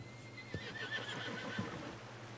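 Horse whinnying and snorting faintly in the open, with soft hoof clops and steady background noise, no talk.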